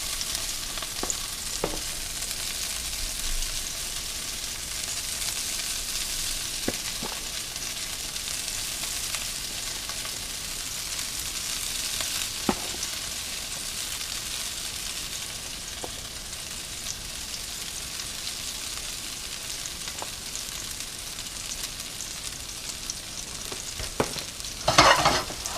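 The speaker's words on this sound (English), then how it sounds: "this pan still has the bacon fat in it. So while that melts down, I'm going to get my potatoes in the pan" Grated potatoes fry in melted bacon fat in a pan, giving a steady, even sizzle throughout with a few sharper pops and scrapes, no talking.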